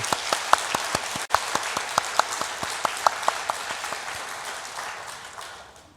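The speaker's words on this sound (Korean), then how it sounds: "이 기도와 찬양을 기쁘게 받으실 우리 하나님께 영광의 박수 올려드리겠습니다" Applause from a church congregation at a Sunday worship service at Hyomok First Church, a broad wash of clapping with scattered sharp individual claps, steady at first and slowly fading toward the end.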